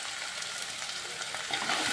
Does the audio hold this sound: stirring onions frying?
yes